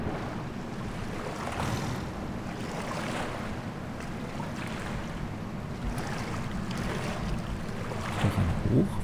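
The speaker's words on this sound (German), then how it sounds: "Plansche ich hier ein bisschen im Wasser rum." Splashing and sloshing through water in Far Cry Primal, set by a cave near a waterfall: a steady wash of water and wind-like rush throughout, with a few louder splashes near the end.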